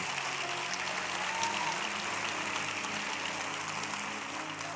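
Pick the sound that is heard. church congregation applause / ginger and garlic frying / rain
church congregation applause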